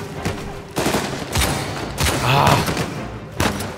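Bursts of gunfire in the Uncharted 4 pirate battle crack out in several loud, separate volleys. Short gaps fall between them, and a single brief shout breaks in once.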